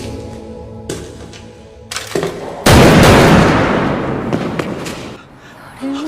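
A single loud gunshot bursts out as Sukmin shoots Dohee in a Korean drama, cutting sharply into soft background music and leaving a long, noisy decay that fades over several seconds.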